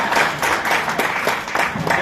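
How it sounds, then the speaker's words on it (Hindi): An audience at a cotton farmers' gathering in a hotel claps briefly, close and fairly loud, with individual hand claps audible in an uneven rhythm. "फिर ताली बजा।"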